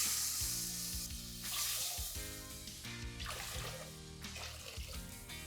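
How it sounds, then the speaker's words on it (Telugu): Water poured into a hot pan of spices, chillies and curry leaves for squid pulao sets off a loud, close, continuous sizzle and bubbling hiss with trickling liquid, with no talking. "4 గ్లాసులు వాటర్ పోసుకోవాలి"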